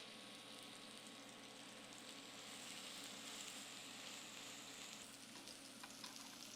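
Lamb burger patties sizzle in hot oil in a pan, a continuous faint crackling hiss that holds steady throughout with small popping spits near the end.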